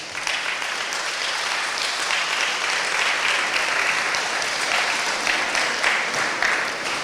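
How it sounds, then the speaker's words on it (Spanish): A church congregation applauding, many hands clapping loudly and continuously for several seconds with a steady, dense texture and no voices over it. "Dale un aplauso a Jesús"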